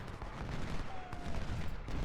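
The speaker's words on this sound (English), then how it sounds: "Light Brigade going to get some shots into Custer here, I hope." Distant musket fire from a Civil War battle at Cold Harbor in Ultimate General: Civil War, a faint, continuous crackling fusillade of scattered shots under a low battlefield rumble.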